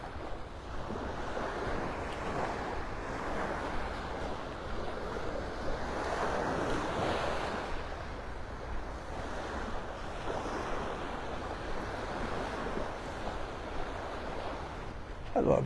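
Surf rolls onto the beach at Delnor-Wiggins in North Naples, Florida, in a continuous washing roar that swells and eases in slow cycles, with wind buffeting the microphone.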